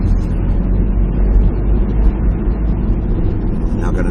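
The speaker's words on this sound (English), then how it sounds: "You can see quite a high volume of traffic." Busy road traffic with cars passing in a steady stream, a continuous low rumble and tyre roar close by, with no distinct breaks between vehicles.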